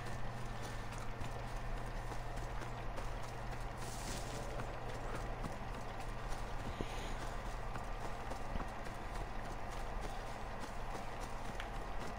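Horse hooves clip-clop in a steady galloping rhythm throughout, with game ambience in Assassin's Creed Odyssey, loud and close with no talk.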